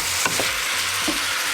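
Tomatoes go into a hot pan while Filipino food cooks, giving a steady broadband sizzle with a few brief stirring scrapes, close and alone with no talk.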